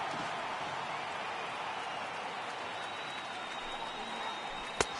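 A stadium crowd of over 39,000 fans on their feet at a 2018 Mets versus Nationals baseball game in Washington, a steady, dense roar of cheering that fills the whole stretch, with one brief sharp crack near the end.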